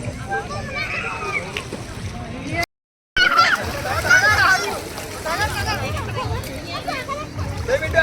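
Splashing and sloshing in cold water at Dwarka, close and lively under excited voices of adults and children, with a brief cut of silence partway through.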